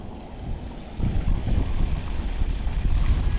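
Strong wind blows through trees and plants outdoors, a loud, continuous rushing roar that swells noticeably after the first second and stays gusty to the end.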